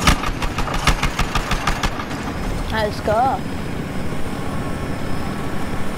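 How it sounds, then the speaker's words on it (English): A helicopter engine in the Battlefield video game runs with a steady mid-pitched drone and some rhythmic pulsing at first, while a player briefly speaks over it. "let's try to get the chopper"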